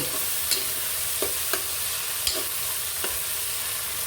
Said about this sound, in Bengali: পেঁয়াজ আর গরম মশলার সাথে আমি টমেটোগুলো কষিয়ে নিব